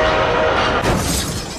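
A train wreck sound effect used as a show segment marker: a loud blast like a train horn mixed with crashing, shattering noise, short and alone.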